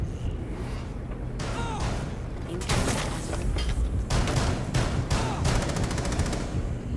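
Rainbow Six Siege gunfire: repeated bursts and single shots that are sometimes rapid and sometimes spaced, loud and close, with voices talking over parts of it.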